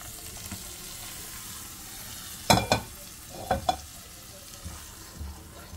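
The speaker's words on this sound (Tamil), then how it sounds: "இப்போ முந்திரி பருப்பு நெய் வந்து நம்ம எடுத்து அதை கொட்டிடலாம்." Cashews fried in ghee are poured into lotus seed payasam, giving a few short, close clattering splashes with faint sizzling over a quiet background. No one speaks.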